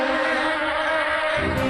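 A steady insect-like buzz drones continuously in a cartoon scene where a character fights off bees, a close, even whine with a slight shift near the end and no speech.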